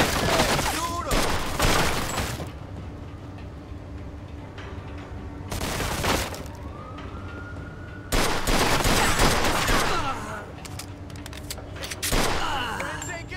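Gunfire from the Mafia II: Definitive Edition video game comes in heavy repeated bursts of rapid shots and booming impacts, separated by short lulls with lingering echoes and rumble.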